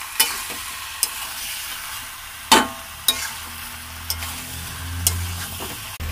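Chicken pieces sautéing in hot oil in a home kitchen, a steady low sizzle broken by sharp clacks of a spoon stirring against the pan every second or so, close and moderately loud with no talking.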